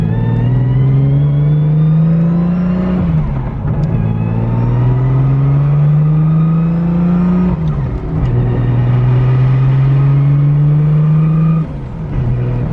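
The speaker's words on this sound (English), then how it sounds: "if you hear it does have a little bit of a whine compared to the old trans" A car with a newly fitted transmission drives and accelerates through gears, a rising whine climbing in pitch then dropping at each shift, repeated three times over a loud, steady engine rumble with no talk.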